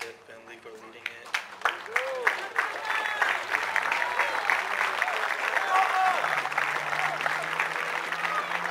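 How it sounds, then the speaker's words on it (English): An outdoor crowd at a cadet drill competition on family weekend applauds Bravo Troop. A few sharp, separate claps come first, then they build into sustained clapping, with voices and a low hum underneath. "applause for Bravo Troop and Cadet Finley for leading it."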